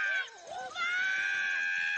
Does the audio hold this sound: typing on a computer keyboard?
no